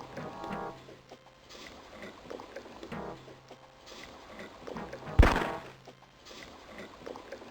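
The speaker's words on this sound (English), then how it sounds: "there's an explosion" An explosion in a Sherlock Holmes video game hits as a single sudden, loud burst that rises sharply above quiet, muffled ambient game sound and then quickly fades.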